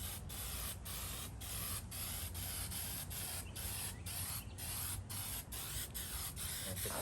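Spray paint hisses steadily onto a part from a 1955 Westinghouse fan, one continuous close spray with small rhythmic flutters throughout.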